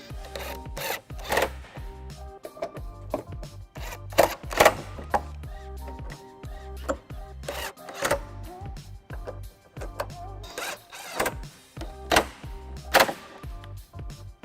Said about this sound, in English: With my electric socket, 15mm, I'll tighten all 8 bolts that I hand tighten.